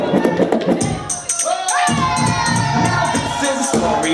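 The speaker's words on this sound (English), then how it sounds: "clap it up for the ladies." A crowd at a benefit gala cheers and claps for the ladies, a dense, close wash of applause and shouting that covers the whole stretch, with voices calling out over it.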